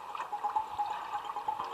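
Clear water pours into a container, a soft trickling and splashing stream running steadily for a couple of seconds at low volume, with no talking.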